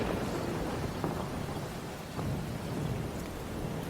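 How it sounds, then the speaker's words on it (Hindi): Heavy rain pours outside during a storm, a dense steady roar with low rumbles of thunder underneath and no voices. "बाहर इतनी जोरों से बारिश हो रही है"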